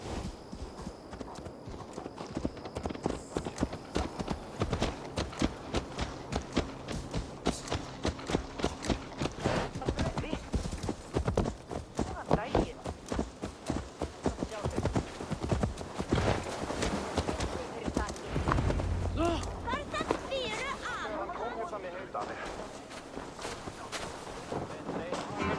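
A horse's hooves clip-clop in a brisk, steady rhythm in Assassin's Creed Valhalla, close and clear for most of the stretch before slowing toward the end, with occasional voices speaking alongside.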